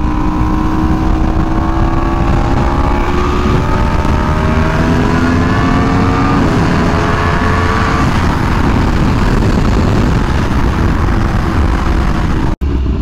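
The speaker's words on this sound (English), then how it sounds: "I'm sorry, I know I'm revving like more than I ever do, but I've missed having like a nice sounding exhaust" A Yamaha R1M sport motorcycle engine pulls hard through the gears, pitch climbing in repeated rising sweeps with loud exhaust and wind rush, ending in a sharp brief crack.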